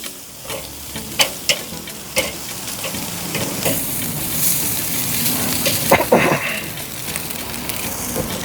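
Pork seasoned with Jamaican jerk seasoning sizzles while browning over a Weber kettle grill, a steady close frying hiss broken by a few sharp knocks and scrapes as pieces are moved.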